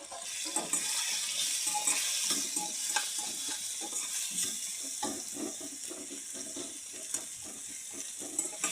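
Chilli powder frying in hot oil for a dal tadka, giving a steady close sizzle with occasional stirring scrapes and clinks.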